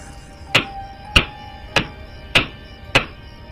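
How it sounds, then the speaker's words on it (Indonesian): Hammer blows knocking on a wooden bedroom door at night, five sharp evenly spaced knocks about half a second apart, close and fairly loud against a quiet background. "Sesekali suara ketukan palu di pintu kayu kamarku itu muncul dan terdengar."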